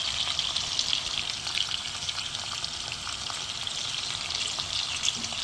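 Bacon-wrapped steak fingers fry in a pan with a steady, crackling sizzle and scattered sharp pops from the fat, close and continuous, with no voices.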